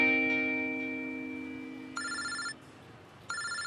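A telephone rings in two short bursts with a pause between, fairly faint, after a fading tonal sound.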